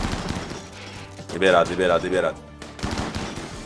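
Automated turret and colonist gunfire in the RimWorld colony game, fired at a tough creature: a dense burst of rapid shots, loud and close, with a person talking over it.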